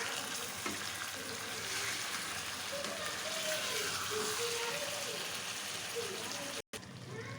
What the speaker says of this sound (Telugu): చేప ముక్కలు వేసిన తర్వాత మెల్లిగా కలిపెట్టుకోండి